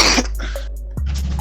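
A single sharp sneeze picked up on a headset microphone during an online sim racing session, loud and close, followed by a low background hum.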